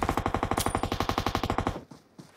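Rapid automatic gunfire from an M4 rifle in a mobile shooter game, a steady rattling burst of about twenty close, loud shots that stops abruptly, leaving a brief quieter tail.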